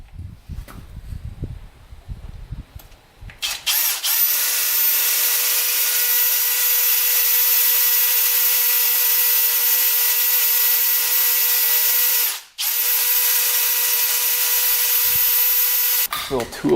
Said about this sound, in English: Gonna quick drill a hole in it first